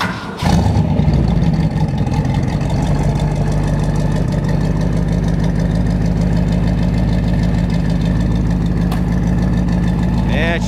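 A 1962 Ford Galaxie with a 427 side-oiler Tri-Power V8 cranks over and catches, then settles into a loud, steady, lumpy idle that continues close by.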